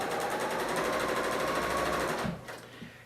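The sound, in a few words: Bernina L890 sewing machine stitching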